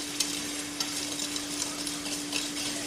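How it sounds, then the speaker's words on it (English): Dry whole wheat biscuit ingredients are stirred together in a bowl, giving a soft, continuous scraping rustle with light taps, close and alone, over a faint steady hum. "Now I mix everything together really well before I put any kind of wet ingredient in here."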